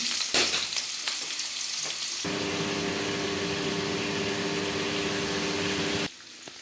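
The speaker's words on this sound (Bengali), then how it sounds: "আলুগুলো দিয়ে দিই।" Potatoes tipped into a hot kadai of oil tempered with five-spice seeds burst into a loud, steady sizzle after a few seconds of clattering, the frying crackle holding evenly before cutting off near the end.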